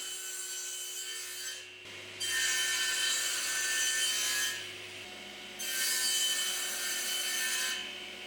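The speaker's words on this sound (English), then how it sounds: "I'm going to tilt the blade over to 45 degrees, then use the mitre gauge with a stop set to get all the bits cut" Table saw with its blade tilted to 45 degrees cutting wooden mitre pieces against a mitre gauge stop for a cocktail case, two loud sustained cuts of a few seconds each, separated by the motor's quieter running, no talking.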